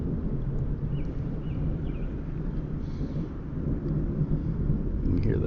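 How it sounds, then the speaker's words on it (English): Thunder rumbles low and continuous during a Kansas City thunderstorm with a tornado warning, a deep rolling drone with faint wind and rain on top, swelling slightly near the end. "You can hear the thunder over my head."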